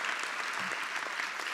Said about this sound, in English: Give Goucher a round of applause for what it has done.